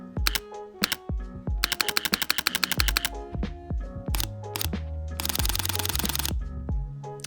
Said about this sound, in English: let's hear the difference between the shutter sounds